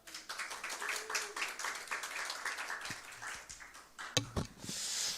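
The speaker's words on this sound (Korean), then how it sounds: "큰 박수로 맞이해 주시기 바랍니다." Audience at a formal discussion forum clapping to welcome the committee chairman, a faint, steady patter of applause with a few sharper claps and a brief rustle near the end.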